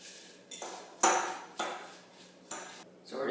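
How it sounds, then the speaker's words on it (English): A metal fork stirring homemade dressing in a dish, several separate scraping and clinking strokes about half a second apart, close and fairly clear with no speech. "And I'm using a fork, just kind of stir it around a bit"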